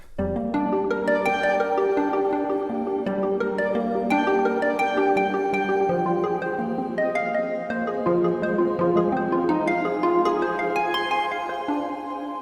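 A Galaxy Harp synthesizer patch from OmniChill plays plucked, harp-like notes in cascading runs, bright and ringing with long shimmering sustain, steady and loud throughout with no talking.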